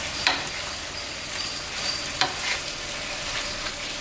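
Shrimp frying in a hot pan for Vietnamese broken rice with pork chop: a steady broadband sizzle runs throughout, with a few sharp clicks and spatter pops from stirring. No one speaks.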